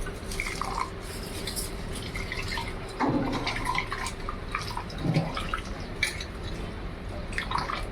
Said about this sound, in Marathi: तर आपली डाळ धुवून झालेली आहे.